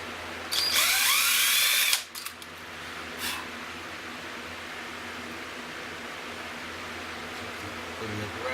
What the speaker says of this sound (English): You're gonna drill your pilot holes